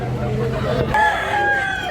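Crowing from a rooster, likely a bullstag, rings out at a Cebu chicken market, a short drawn-out call near the end over clucking fowl and murmuring voices.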